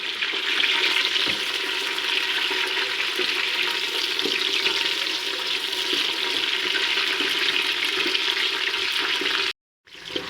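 Onions for beef korma fry in hot oil in a pan, giving a steady, dense sizzle that runs close and loud for about nine seconds before cutting out abruptly.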